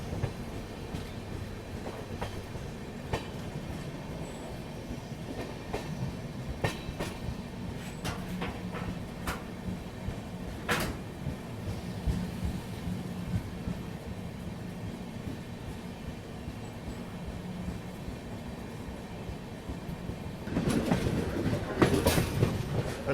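The Tirunelveli Bilaspur Superfast train rolls slowly over the tracks with soft, steady clickety-clack and wheel rumble, swelling noticeably louder near the end.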